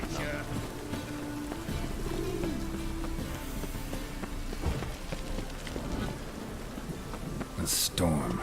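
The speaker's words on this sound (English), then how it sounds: "A storm, damn it." Steady rain and thunderstorm ambience from The Witcher 3: Wild Hunt on PC, a continuous wash of rainfall with low rumbles, plus a brief burst near the end, running under game voices.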